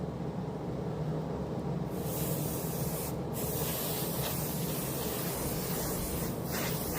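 Compressed air sprays steadily into a gaming laptop's fan to blow out dust, a close, continuous hiss running unbroken for several seconds with no talking.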